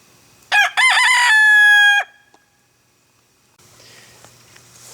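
A rooster in a chicken run lets out one loud, close crow with a rising harmonic call, then falls quiet before faint clucking and farmyard murmur return.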